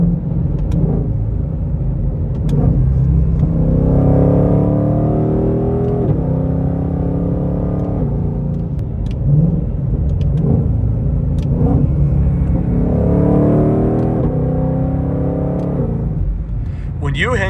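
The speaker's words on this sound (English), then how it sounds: "You hang on to the revs a little bit, it definitely pops on the upshift." A Shelby GT500 accelerates through the gears while driving, its engine rumbling and climbing in pitch in repeated sweeps before dropping on each upshift, with sharp pops at the shifts and someone talking over the cabin noise.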